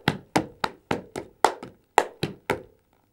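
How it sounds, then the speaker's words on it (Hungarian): Claps, boot slaps and stomps from a Hungarian folk dance in the Szék style: eight sharp, evenly spaced percussive hits in a steady rhythm, close and fairly loud, with no talk. "Taps, lábcsapás vagy dobbantás."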